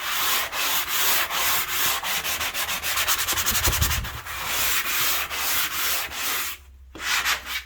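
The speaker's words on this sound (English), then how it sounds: "I quite like these sanding pads." Steady back-and-forth rasp of a sanding pad rubbing across a wooden windowsill shelf, rhythmic strokes close up with a brief pause near the end.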